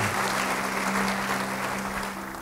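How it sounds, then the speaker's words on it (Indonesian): A church congregation claps together in a sustained, fairly loud wash of applause that tapers slightly at the end, with a low steady hum running underneath. "Yang mau beri tepuk tangan bagi dia."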